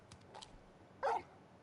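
Torgal, the large wolf-like dog companion in Final Fantasy XVI, gives one sharp, fairly loud bark after a couple of softer yips, set against a quiet game background.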